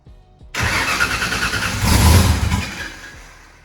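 A turbocharged car engine cranks briefly and then fires up for the first time, catching with a loud rough roar that swells and settles into a steady idle, heard close and without talk.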